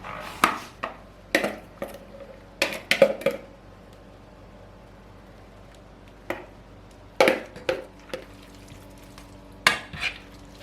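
Carbonara pasta with bacon and sauce stirred in a pan: irregular scraping and clinking strokes of a utensil against the pan, spaced by pauses, with a faint sizzle underneath.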